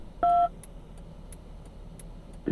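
A single loud telephone keypad tone sounds briefly, with faint clicks and beeps following over a quiet background and a short tone starting right at the end.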